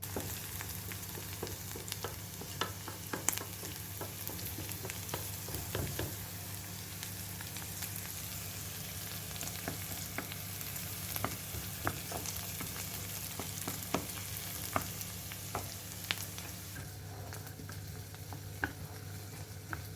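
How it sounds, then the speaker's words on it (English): Onions sizzle and fry in hot vegetable oil, a steady crackling hiss with scattered pops and faint stirring, continuing without talk. "Now we're going to do the onions, frying it with vegetable oil."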